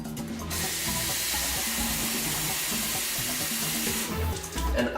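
Tap water streams steadily into a giant cappuccino mug for several seconds, a close, even hissing pour that cuts off near the end with a few clinks.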